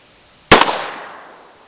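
A single sharp gunshot crack from target shooting, loud and close, with a short double-edged attack and a reverberant tail that fades over about a second in open surroundings.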